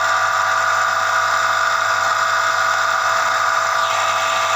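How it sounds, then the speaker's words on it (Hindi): A noisy water pump motor with a bearing problem runs continuously, giving a loud, steady high-pitched whine with a hum beneath it, close and unbroken from start to finish. "आप वाटर पंप मोटर का साउंड सुन सकते हैं।"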